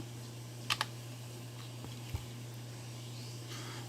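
A few sparse keystrokes on a computer keyboard while entering an Excel formula, a quick double tap followed by a couple of isolated faint clicks over a steady low electrical hum.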